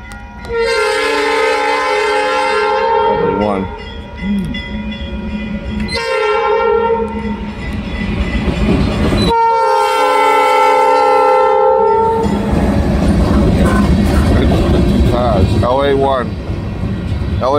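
CSX freight train LA-1 rolling past Ward Hill crossing in Bradford, Massachusetts, sounding several long loud horn blasts over rumbling wheels, with a voice talking underneath.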